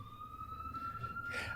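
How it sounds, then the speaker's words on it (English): An emergency vehicle siren passes on a city street: one steady, piercing wail holds throughout and swells slightly toward the end, over a low rumble of traffic. "after this freaking siren goes by."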